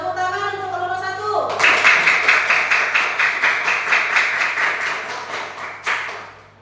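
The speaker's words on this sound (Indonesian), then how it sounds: "Tepuk tangan untuk kelompok 1." A classroom of students claps for a presenting group, a burst of steady rhythmic claps rising after a brief spoken moment and carrying on evenly for several seconds at close range.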